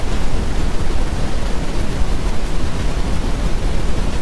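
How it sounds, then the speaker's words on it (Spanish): A brown noise sample plays as a loud, constant rumbling wash of noise, deep and steady with no breaks or voices. "Este sería el ruido marrón."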